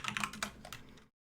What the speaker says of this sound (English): Excuse my typing.